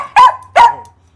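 Two sharp, loud dog barks ring out close by in quick succession, about a third of a second apart, then fade into quiet with a low steady hum underneath.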